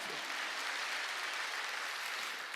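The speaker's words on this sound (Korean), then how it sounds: "박수" Congregation clapping together during a Wednesday church service, a dense, even wash of applause that holds steady from start to finish at moderate volume, with no speech over it.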